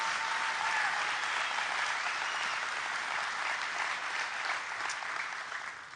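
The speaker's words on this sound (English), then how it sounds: "clap for her, of course" Steady applause from an audience at a recruit class graduation ceremony, dense and sustained for the full stretch, tapering slightly at the end.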